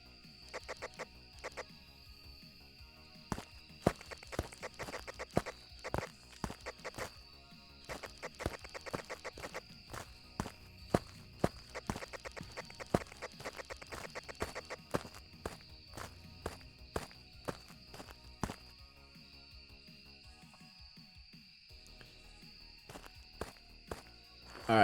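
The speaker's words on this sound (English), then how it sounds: "Thought I heard footsteps." Footsteps in the horror video game Phasmophobia, a long series of soft, fairly quiet steps at an irregular walking rhythm over a steady hum, with no talking.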